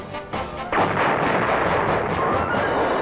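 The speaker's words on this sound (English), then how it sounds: "This unarmed Copperhead firing is against a stationary tank target." An unarmed Copperhead guided artillery round is fired at a stationary tank target on a test range: a single heavy, booming report about 0.7 seconds in, followed by a sustained loud rumble that fills the rest of the clip.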